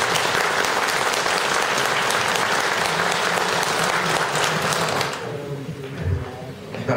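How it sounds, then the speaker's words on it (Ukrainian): Applause from an audience at a meeting of retired police pensioners in Poltava, loud and steady for five seconds, then thinning into quieter scattered claps with murmuring voices underneath. "Тому давайте вмісті їм подякуємо за цей труд своїми оплесками."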